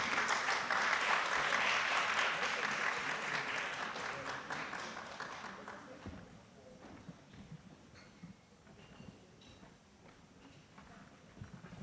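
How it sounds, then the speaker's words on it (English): An audience applauds as panelists join the stage at an international mayors forum session, loud dense clapping for about four seconds that gradually thins and fades to scattered claps and room noise. "please give them a big round of applause"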